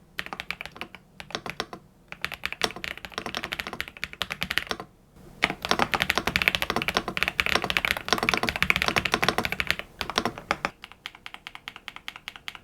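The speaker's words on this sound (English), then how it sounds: "Overall, the typing experience is very nice." Close, steady typing on an Epomaker Dynatab 75x mechanical keyboard gives dense, rapid clacking keystrokes in bursts, with two short pauses, and no talking.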